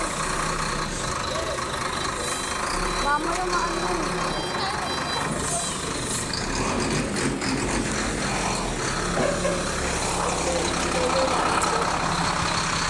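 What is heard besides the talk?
truck engine idling on road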